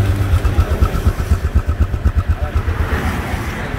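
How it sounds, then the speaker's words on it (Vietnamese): A motorcycle engine running nearby at idle, a loud, even pulsing thump repeating rapidly for a few seconds without talk. "Máy nổ khiếp thiệt chứ."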